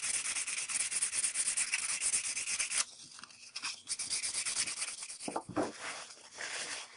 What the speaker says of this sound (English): I buff the surface with that very fine sandpaper